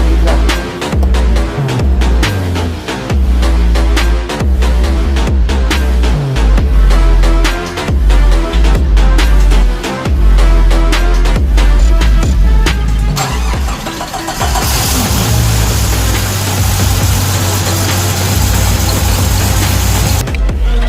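A powerful off-road car engine, a Jeep Cherokee/Grand Cherokee engine in a tubular-frame build, revs loudly and continuously, rising and falling in pitch with throttle blips, close by, with a steady rumble throughout.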